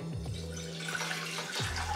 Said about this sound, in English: Okay, add the water.